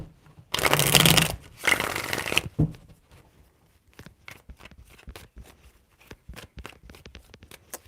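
Tarot deck being shuffled: two loud riffling bursts close together, followed by a run of light card taps and flicks as the cards settle, no talk.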